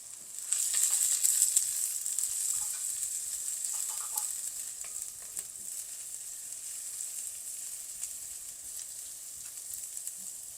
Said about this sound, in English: some julienned ginger, and some garlic. We're going to toss that around until it becomes fragrant.